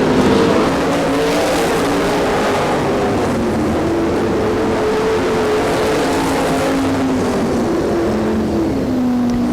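Race cars on the final lap of a short-track race, engines roaring steadily nearby with shifting pitch as cars pass through the turns, loud and continuous with no voices.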